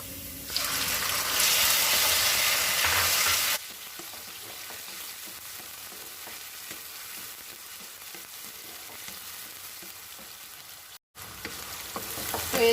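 Chicken pieces for Chinese fried rice fry loudly in a hot pan, with an intense burst of sizzling at first that settles into a steady, quieter frying hiss, close up and with no talk.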